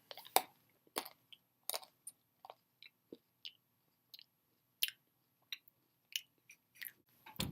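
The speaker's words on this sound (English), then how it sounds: "Just going to take a quick dark chocolate almond break." Someone eats dark chocolate almonds close to the mic, giving a series of crisp, separate crunching bites and chews spaced about a second apart in an otherwise quiet room.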